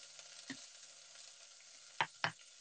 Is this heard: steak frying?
yes